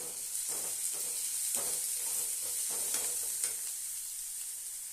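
Finely chopped curry leaves, added after chopped green chilies, sizzle in a pan for a Tamil ragi and green gram dosa batter. A steady hiss runs throughout, broken by soft irregular stirring taps.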